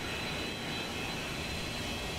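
Steady, dense jet drone of the MD-82 airliner's engines in the X-Plane 12 flight simulator, a continuous even roar with a faint high whine on top, heard alone without talk.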